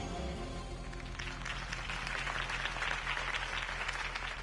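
A large crowd claps and cheers continuously at moderate volume in the video game Telltale's Batman, a dense wash of applause with no voices standing out.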